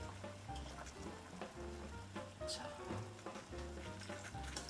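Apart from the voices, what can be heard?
pasta noodles put into boiling salted water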